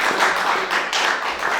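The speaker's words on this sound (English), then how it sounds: "Everybody give Elijah a round of applause." An audience at a Libertarian Party speaking event applauds for Elijah with close, steady clapping that continues throughout and then slightly thins toward the end.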